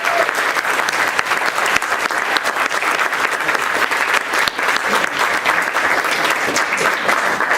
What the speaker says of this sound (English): I want to have a round of applause for all the presenters and